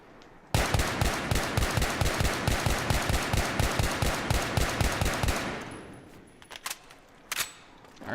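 Semi-automatic rifle fitted with a foregrip firing in Battlefield 3, a fast, loud, even string of about twenty shots, then a short tail of scattered clicks and a few stray bangs.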